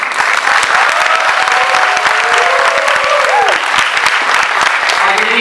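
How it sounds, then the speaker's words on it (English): A congressional reception crowd claps loudly for Congressman Andy Kim, sharp dense applause throughout with faint cheers and crowd murmur mixed in. "Please give a big round of applause for Congressman Andy Kim."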